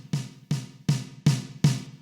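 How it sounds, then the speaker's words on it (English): A heavy, booming cannon-style snare drum sample hits five times in a steady, evenly spaced rhythm, each crack loud and close with a short decaying tail and no voices. "there's this cannon snare that sounds like this"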